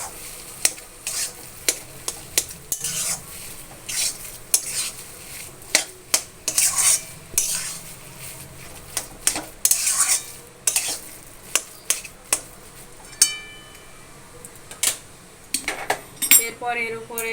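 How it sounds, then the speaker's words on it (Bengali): A spoon stirs and presses a soybean muitha mixture together in a bowl, giving repeated sharp clinks and scrapes against the bowl in an irregular rhythm, close and fairly loud, with no talking. "একসঙ্গে মাখিয়ে নেব।"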